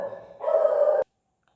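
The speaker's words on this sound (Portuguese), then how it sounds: "foi o cachorro" A dog gives a single drawn-out bark indoors, rising in loudness and cutting off abruptly, with near silence after it.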